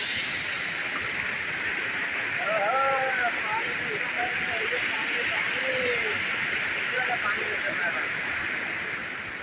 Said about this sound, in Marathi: भाई ये है पानी का फ्लो